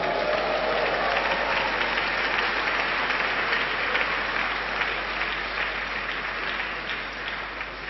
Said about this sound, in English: Give Jesus a clap